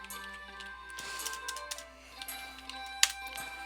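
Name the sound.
typing on a computer keyboard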